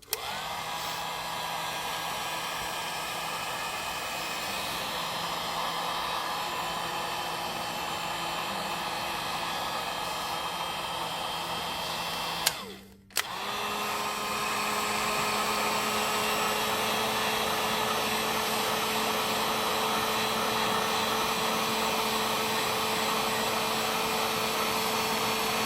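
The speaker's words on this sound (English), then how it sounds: "And now this is just a regular old heat gun, like baseline, nothing fancy." A plain, basic heat gun blows hot air at a steady, loud, unbroken roar, with a brief cut-out midway before resuming at a slightly different pitch, used on a seashell fairy-garden craft project.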